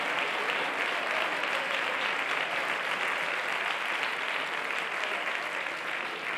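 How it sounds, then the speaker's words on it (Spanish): An audience applauds a singer at a singer-songwriter concert, dense sustained clapping from a crowd that stays steady and loud for several seconds without voices. "lo que más me gusta a mí, es el aplauso para el gran Miguel"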